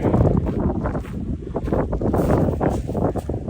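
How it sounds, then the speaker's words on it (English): Cold wind buffets a microphone outdoors on a walk in Ponta Delgada, São Miguel, in the Azores, giving a loud, rough, continuous rumble with gusty surges and no talking. "Yeah, the wind, it's really cold. It's a cold wind."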